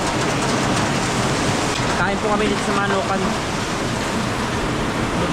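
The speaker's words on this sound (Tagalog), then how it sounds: "Sobrang lakas na ng ulan sa labas." Heavy storm rain pouring outside a house, a dense continuous hiss that stays steady throughout, with people talking briefly over it partway through.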